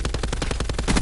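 A rapid burst of submachine gun fire from the video game Call of Duty: Black Ops 4, about a dozen evenly spaced shots in quick succession, loud and close with no talk.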